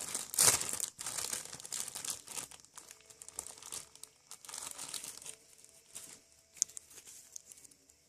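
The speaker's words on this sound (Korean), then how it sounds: "작은 지퍼백에 이렇게 찢어서 여기 안에 이거 토핑들을 넣으세요." Toppings for a DIY craft are torn open and dropped into a small plastic zipper bag, making quiet, intermittent crinkling and tearing with a louder burst near the start and scattered softer rustles after.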